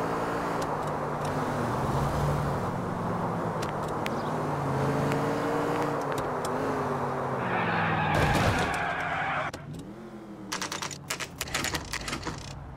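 A car driven through the streets of 1940s Los Angeles in L.A. Noire hums along with a steady engine drone, then a sharp crash or skid near the end gives way to scattered clatter.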